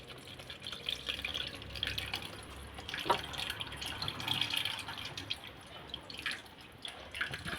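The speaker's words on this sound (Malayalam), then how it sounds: "അപ്പോൾ നമുക്ക് കുറച്ചും കൂടി പുളിവെള്ളം പാർന്നെടുക്കാം" Tamarind water is poured into a cooking pot, making soft, uneven splashing and trickling with a few brief drips, fairly faint and close.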